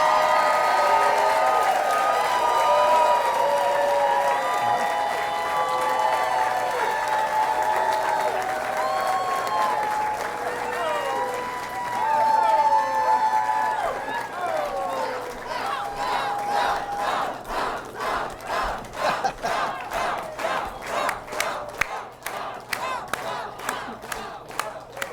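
A large, enthusiastic crowd at a South Carolina governor campaign rally claps and cheers, with whoops and shouts over sustained applause that settles into rhythmic clapping toward the end.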